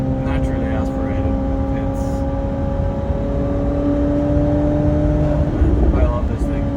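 McLaren 750S engine pulling hard under acceleration, a steady loud drone with rising tone throughout, heard from inside the car at close range.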